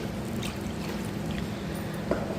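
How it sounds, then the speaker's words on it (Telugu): Water is poured through a sieve into flour for a snack dough, making a soft, faint, steady trickle heard alone for a couple of seconds. "ఇలా జల్లెడలో వేసుకొని కొన్ని వాటర్ వేసి"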